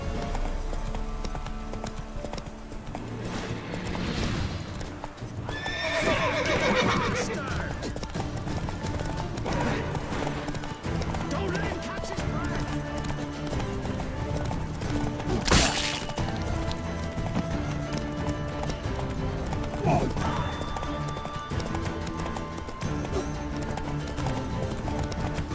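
Hooves of Roach, Geralt's horse in The Witcher 3: Wild Hunt, clatter in a fast, steady galloping rhythm throughout, close and loud, with a brief whinny and a sharp crash partway through under game music.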